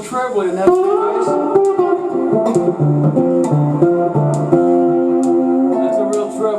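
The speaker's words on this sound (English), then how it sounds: "Real trebly, and that's the bass." Bass guitar played through an amp with the treble turned up, giving a bright, twangy tone; a steady run of plucked notes with sharp attacks continues throughout at a strong, even level.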